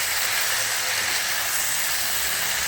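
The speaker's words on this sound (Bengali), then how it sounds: "এবার নাড়াচাড়া করছি।" Malabar spinach and vegetables cook in an uncovered pan while being stirred, a steady close sizzling hiss with no pauses and faint scraping underneath.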